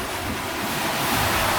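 Waves slap and wind roars at sea on a sailboat heading into the wind, waves and current, a dense steady rush of broadband noise with buffeting on the microphone and no voices.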